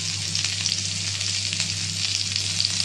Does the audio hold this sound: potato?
yes